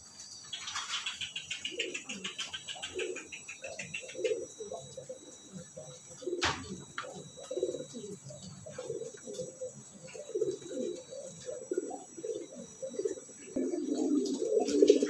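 A racing pigeon with tritis-colored plumage coos repeatedly at close range, soft rhythmic murmuring calls running steadily through the clip alongside a few faint chirps from other birds.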